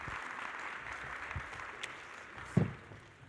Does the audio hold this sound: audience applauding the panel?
yes